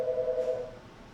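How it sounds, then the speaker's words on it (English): A single electronic telephone ring tone at an auto service shop, steady and clear, lasting about half a second before cutting off, followed by quiet room noise. "The other line is ringing real quick."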